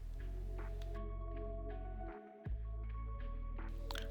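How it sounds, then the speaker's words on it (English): An electric whisk beats two egg whites in a large mixing bowl, a steady loud motor hum and whir running almost continuously, with one brief dip and a sharp knock midway before it resumes. "beat these with electric whisk until light and fluffy"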